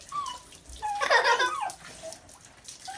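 Water splashing and running during a child's bath, a brief burst of sloshing in the middle of the short stretch amid faint background sounds.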